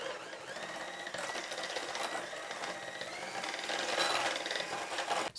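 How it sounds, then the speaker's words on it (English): A whisk beats cake batter with vanilla extract in a bowl, giving a quick, steady rattling and clicking that stays fairly quiet and close, with no talk. "So I'll just be whisking this together for about 1 more minute."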